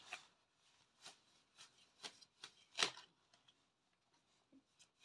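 Playing cards being shuffled and dealt during a tarot reading, a run of quiet close-up rubbing flicks and soft slaps at an irregular rhythm, with one sharper snap near the middle and no talk over it.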